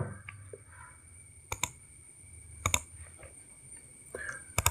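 An email address is tapped out on a mobile phone's on-screen keyboard, a few faint, sparse clicking taps in small clusters, heard close up against a quiet background.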